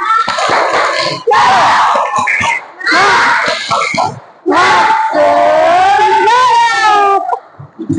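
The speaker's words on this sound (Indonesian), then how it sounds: "yuk kita tepuk semangat dulu ya. Tepuk semangat." A class of Indonesian schoolchildren performs a spirit clap chant, bursts of rhythmic hand claps alternating with loud shouted chanting voices, close and energetic, with a sustained sung-out call near the end.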